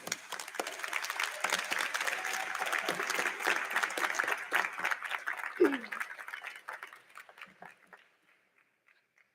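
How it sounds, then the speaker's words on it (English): Graduating class and audience at a 2022 undergraduate commencement give a sustained round of applause, dense crowd clapping that fades out toward the end, leaving near silence. "Graduates, let's give a round of applause to our families"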